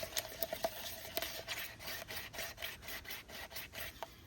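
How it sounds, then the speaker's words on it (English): Epoxy resin being stirred in a cup with a paddle-style spatula, producing a steady run of soft scraping strokes, evenly spaced and close, with no voices. "Give it a quick mix. I love this because it just mixes up so easy."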